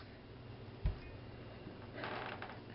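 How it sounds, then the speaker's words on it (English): A spoon stirs a hot chocolate mixture of hot milk and cocoa, giving one soft knock against the pot followed by quiet, brief scraping swirls, with no talk. "now we're going to just stir our mixture up."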